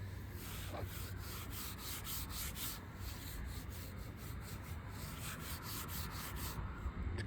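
A hand rubs across the rough, weathered paint of an abandoned van, giving a continuous dry scraping hiss at close range, steady throughout with no talking.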